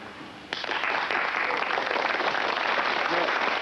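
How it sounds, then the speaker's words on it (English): A rehearsed studio audience breaks into applause on cue after a brief quiet moment, a sudden onset of broad clapping that holds steady for a few seconds in a 1973 television studio. "The people in the front row will start clapping and stop as my hand goes across like that."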